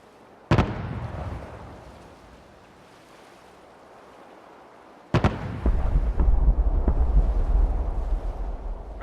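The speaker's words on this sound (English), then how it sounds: "All batteries, prepare to fire on my mark." Artillery barrage from the Fallout 4 video game: a sharp loud boom near 0.5 seconds with a long rumbling decay, then a second heavy blast around 5 seconds followed by sustained rolling rumble and distant thuds to the end.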